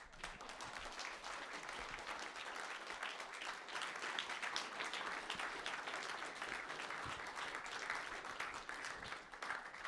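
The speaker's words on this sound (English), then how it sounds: "just one more time, just a round of applause for Bulligan." A crowd claps in sustained, even applause at the finale of the RPG Limit Break 2019 speedrun marathon. The applause is dense and continuous for about ten seconds and sounds somewhat distant and soft.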